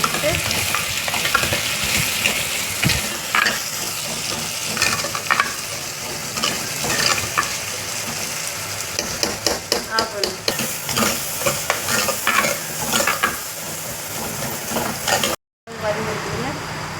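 Curry leaves and other leaves sizzle and crackle as they fry in a pan, with a spoon scraping and stirring in bursts throughout; the sound stays close and steady, then cuts out for a moment near the end.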